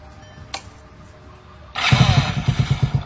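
A motorcycle on a farm catches and starts after a faint click, then settles into a loud, close, throbbing idle with a steady pulsing rhythm.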